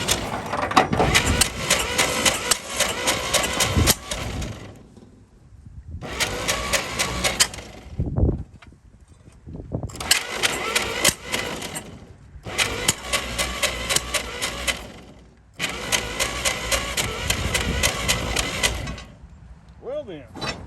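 A 1937 Chevy truck engine, sitting for 45 years and not firing, cranks in repeated loud, close bursts of a few seconds each, separated by short pauses, with no catch or idle.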